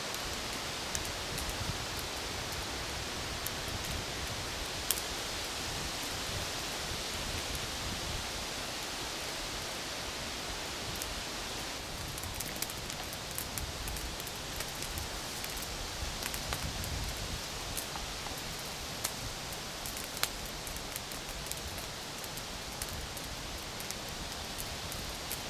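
Steady rain falls outdoors in a mountain wilderness park, a dense even hiss of drops on leaves and ground that continues unbroken, with no voices.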